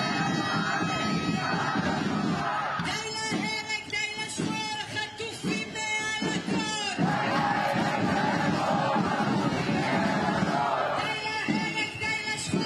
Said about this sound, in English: just take a listen to the crowd. Thousands of people here right now